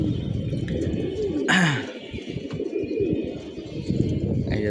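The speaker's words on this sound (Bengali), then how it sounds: "ওই বামে কবুতরগুলা টাপটুপ করতেছে দেখে বাচ্চাগুলো আবার নিচে নেমে আসতেছে" Pigeons on a rooftop coo steadily in low, rolling calls, with a brief rustling flutter of wings partway through. Young birds are among them, and the sounds are close and clear with no talking.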